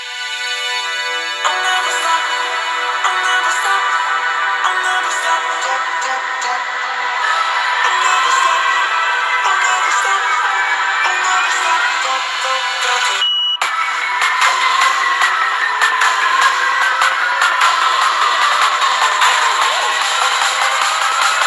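An Infinix Smart HD 2021 phone plays music through its built-in speaker: dense, bright, continuous melodic playback at steady loudness, with a brief dropout partway through before it resumes.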